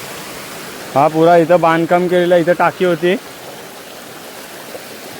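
Water from a stream by a village waterfall keeps up a soft, steady hiss while someone speaks in the foreground for a couple of seconds, then the flow continues alone.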